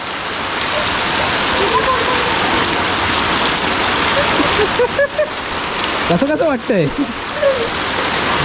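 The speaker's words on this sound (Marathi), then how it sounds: "एक दहा मिनिटात पावसाने जोर पकडलाय" Heavy monsoon rain pours down in the Konkan countryside, a dense, steady hiss that fills the whole stretch. Voices talk over it partway through.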